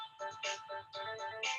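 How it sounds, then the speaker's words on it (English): A phone's ringtone plays a repeating short electronic melody for an incoming call during a lecture, fairly faint and close, with no speech over it. "sorry, I get a phone call."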